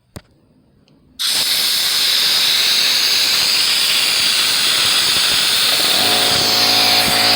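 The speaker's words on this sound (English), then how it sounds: "let the air out of the nozzle there and see if it starts back up by itself at 90 psi" Air rushes loudly from the nozzle of a Harbor Freight air compressor that has a faulty start valve, a sudden, steady, close hiss. Near the end a low motor hum rises beneath it as the compressor starts back up.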